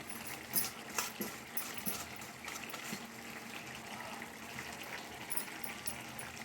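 Water poured into dal while it cooks, a steady liquid gush that runs for several seconds with a few splashy peaks at the start, moderately close and heard alone.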